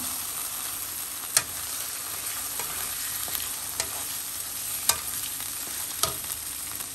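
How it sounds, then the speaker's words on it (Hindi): Chicken and moong-masoor lentils frying and stirring in a pot, a steady close sizzle broken by a few sharp scrapes and clinks of a spoon against the metal. "और इसको 5 मिनट के लिए मैं इसको ऐसे भूनूंगी"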